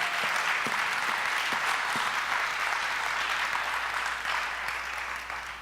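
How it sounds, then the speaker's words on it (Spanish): A church congregation claps and applauds in a sustained, dense wash of hands that stays steady and fairly loud, fading slightly toward the end, with no talking over it. "Demos un aplauso al Señor Jesucristo"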